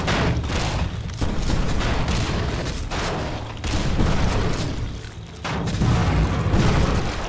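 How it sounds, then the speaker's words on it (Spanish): Heavy cannon booms and rumbling explosions, including a tank blowing up, roll one after another in Beast Battle Simulator, loud and dense, with bursts of gunfire-like crackle between them. "Es que los cañonazos que pegan"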